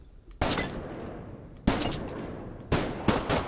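Gunfire from an enemy in a VR shooter game comes in three sharp, loud bursts, each a rapid volley that rings out and fades before the next, with no talking.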